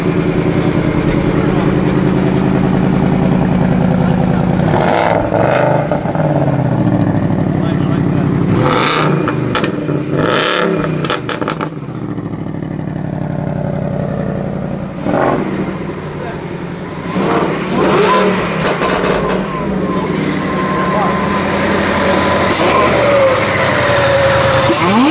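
A 2020 Ford Mustang Bullitt V8 on standard exhaust, without active or cat-back exhaust, idling and revving close by with a rumbling, uneven drone and several sharp bursts, while people talk over it.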